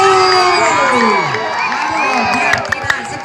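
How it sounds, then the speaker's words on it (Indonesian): A lively crowd cheers at a Woyo Woyo match accompanied by a dangdut orchestra, with loud overlapping shouts, whoops and rising, sliding voices near and far, and a few sharp claps or hits toward the end. "Sorak."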